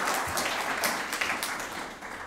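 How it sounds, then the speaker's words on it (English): An audience applauds steadily, a dense crowd of hands clapping at close range throughout. "So I'd like everybody in the audience to join me in giving a round of applause for Rajni and Jayant."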